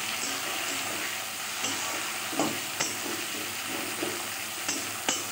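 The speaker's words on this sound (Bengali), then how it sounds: "টমেটোটা দিয়েও আমি আরেকটু ভালো করে ভেজে নেব" Chopped tomato fries in a pan with a steady hiss and sizzle, broken by a few sharp scrapes and taps of a spatula as it is turned, close and fairly quiet.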